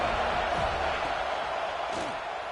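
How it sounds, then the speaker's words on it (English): A football stadium crowd roars as a continuous broad wash of noise, steady and loud throughout, with a broadcast commentator's voice blended in underneath. "This crowd ready to make its presence known."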